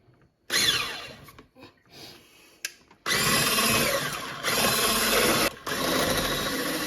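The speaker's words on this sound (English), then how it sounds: "You saw we using the electric mixer because so we also get some oxygen inside easily." An electric hand mixer whirs in bursts as it stirs honey mead ingredients for a traditional Yucatan brew, starting, stopping briefly and restarting in loud, steady stretches with no talking.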